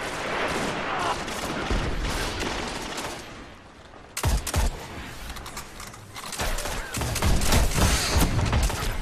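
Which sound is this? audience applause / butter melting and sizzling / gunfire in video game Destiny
gunfire in video game Destiny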